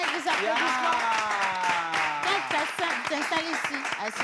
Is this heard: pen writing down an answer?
no